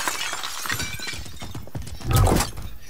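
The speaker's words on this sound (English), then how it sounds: "I hear glass breaking." Glass shatters in Hunt: Showdown, a sharp, loud crash about two seconds in that stands out over a busy, rustling game soundscape of footsteps and ambient noise.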